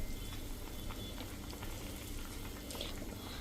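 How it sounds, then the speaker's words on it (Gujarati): A Gujarati tempering (vaghar) bubbles in a pot, giving a continuous soft, fairly quiet burble and crackle with no voices. "તો આ બાજુ આપણું વઘાર પણ ઉકળી ગયો છે."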